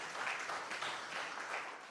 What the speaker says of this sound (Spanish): ¿No se merece un fuerte amén el Señor? Y un aplauso también, ¿por qué no?